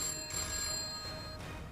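A telephone rings with a steady electronic tone that holds evenly and close throughout, with no voices over it.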